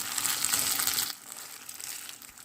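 Rice stirred and toasted in a pot for Turkish pilaf, a bright crackling sizzle with rustling grains that drops sharply quieter about halfway through, then continues as softer frying.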